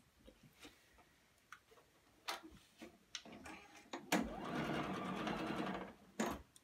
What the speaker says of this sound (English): we're just going to go ahead and sew those seams